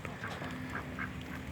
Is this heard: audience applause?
no